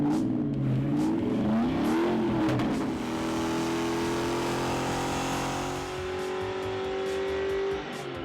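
A Mustang V8 engine revs loudly under load on a dyno, its pitch sweeping up and then holding high in a long sustained pull before easing off.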